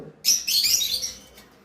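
Shrill, rapid chirps from lovebirds at a bird sale burst out in a short, bright flurry, close and fairly loud, then fade quickly.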